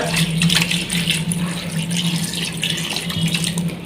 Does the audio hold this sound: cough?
no